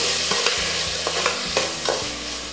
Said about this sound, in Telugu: ఈ కూరగాయ ముక్కలన్నింటి నేను నూనె, నెయ్యి కొద్దిగా కలిపిన మిశ్రమంలో ఒక్కసారి వేయిస్తున్నాను